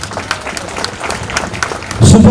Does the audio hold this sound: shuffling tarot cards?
no